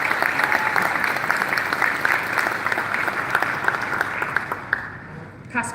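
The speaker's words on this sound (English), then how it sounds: "let's give them one more round of applause as they sit down" Sustained applause from an audience at a board installation ceremony, steady and dense clapping throughout before tapering off at the end.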